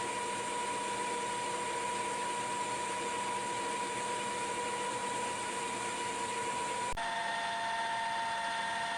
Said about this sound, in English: This has to be hand feed because this lathe doesn't have slow enough feed.